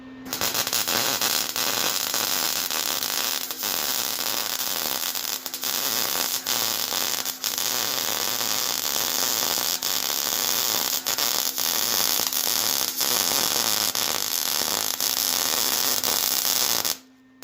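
An arc welder crackles and buzzes continuously while re-welding a broken trailer jack back onto a trailer. The welding runs at a steady level with a constant hum underneath and sharp spits and pops, and stops abruptly at the end.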